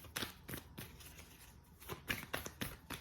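Tarot cards are shuffled on a bed in quick bursts of riffling and soft tapping, close and fairly quiet, with brief pauses between the rustling shuffles.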